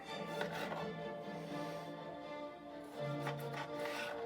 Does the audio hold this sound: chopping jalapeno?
yes